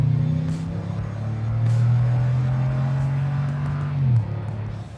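A 2021 Toyota Tundra TRD Pro pickup engine pulls steadily under load, its drone holding a rising whine through one long gear before dropping off near the end, heard from inside the cab.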